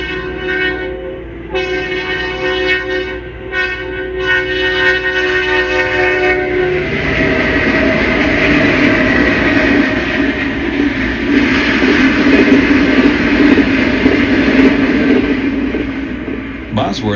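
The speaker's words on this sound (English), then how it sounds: "the eastbound Amtrak pays no mind as it flies through" An eastbound Amtrak passenger train flies through Bosworth on the Santa Fe line, sounding several horn blasts before a loud, rushing roar of cars builds and holds close by.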